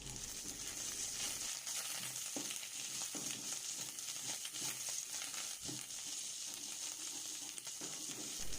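Steady sizzling of baby mushrooms sautéing in a hot pan, with occasional scraping stirs, close and continuous.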